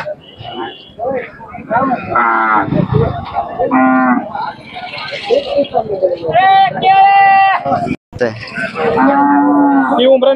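Bulls at a cattle market loudly mooing and bellowing several times in close succession, near and prominent, with people talking around them.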